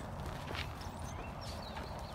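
Small hooves of baby goats patter and clop across the ground on a farm as they are moved to another pen, a faint, quick run of steps in a quiet setting.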